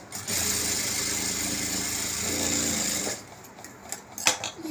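A sewing machine runs steadily for about three seconds, stitching elastic onto a nightie, then stops; faint handling sounds follow.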